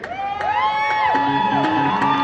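A crowd cheers and whoops loudly at a Nathan's Famous hot dog eating contest qualifier at Coney Island, a continuous roar of excited voices.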